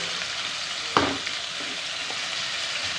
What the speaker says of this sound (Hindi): गोश्त को हमने अच्छे तरीके से तकरीबन 3-4 मिनट तक भुनना है